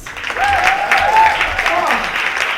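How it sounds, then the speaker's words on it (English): An audience at a worship town hall assembly applauds in a steady wash of clapping, with a voice speaking over it throughout. "Round of applause."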